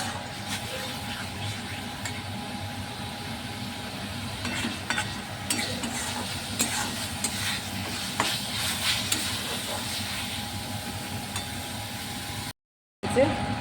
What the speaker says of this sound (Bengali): এখন এঁচড় আলু কষানো চলছে বেশ ভালো করে